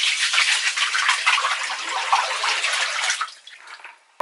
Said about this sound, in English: So you can see how slow the water is. It's not draining very effectively.